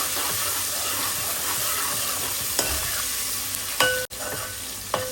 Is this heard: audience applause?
no